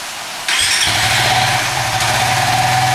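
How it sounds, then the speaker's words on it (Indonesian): A motorcycle engine fitted with an AFR module on the O2 sensor and a stock ECU cranks briefly, then catches and settles into a loud, steady, close idle with a rough rapid pulse. "Kita coba nyalakan."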